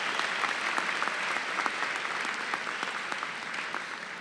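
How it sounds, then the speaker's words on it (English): Sustained applause from a graduation commencement crowd after a sung performance, a dense, steady wash of many hands clapping at once, moderately distant and even in level throughout. "Give him a round of applause, please."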